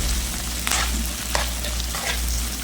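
Chilli chicken fries loudly in a pan as tomato paste is stirred in, giving a continuous sizzle with several scraping strokes of a spoon and a low hum underneath, with no voices.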